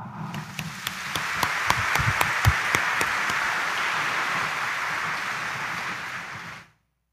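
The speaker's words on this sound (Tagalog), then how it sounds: "iparinig niyo sa Jesus Nazareno ang inyong malakas na palakpak" A church congregation at a homily Mass on November 3 applauds loudly and steadily, a dense wash of clapping with a few sharp nearby claps early on, sustained for several seconds before cutting off.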